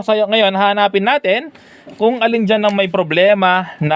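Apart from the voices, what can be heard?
No everyday noise stands out behind the speech.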